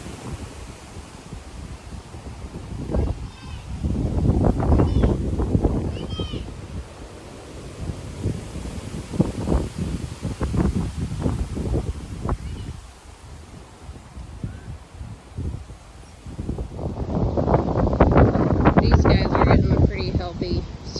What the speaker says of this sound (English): man, look at this wind.